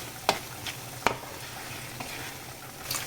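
Canned fish chili paste being stir-fried in a pan, with a constant soft sizzle broken by a few distinct spatula scrapes and taps, close up and without speech.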